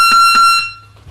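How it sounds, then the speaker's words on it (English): A loud buzzer in a martial arts gym gives two quick, piercing electronic bursts close by, followed by quiet room noise. "that buzzer's really loud"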